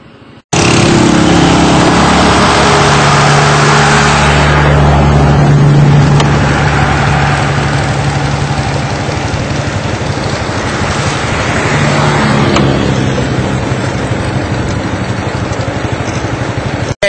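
A scooter engine droning steadily and loudly while riding down into a valley in Bali's central mountains, with heavy wind rush throughout and no speech.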